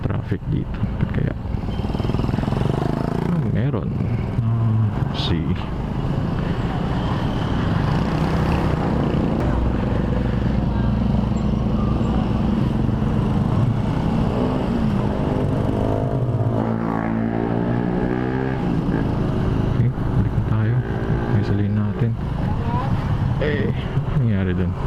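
Heavy road traffic jam with vehicles piled up near SM Molino, a steady dense rumble of engines and wind buffeting the microphone, with someone talking over it throughout.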